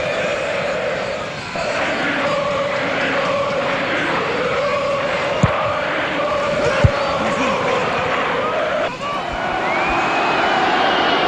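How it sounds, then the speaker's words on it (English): A football stadium crowd roars steadily throughout, a dense sustained rumble of voices urging a player to shoot, with a match commentator talking over it. "Crowd were urging him to hit it"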